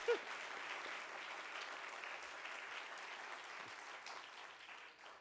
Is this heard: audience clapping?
yes